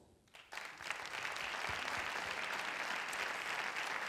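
Applause from an audience at an evening event in a gallery or cultural venue swells quickly after a brief quiet start into a dense, sustained wash of clapping.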